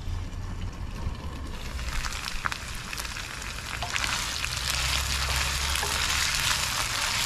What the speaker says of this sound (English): It's sizzling so well.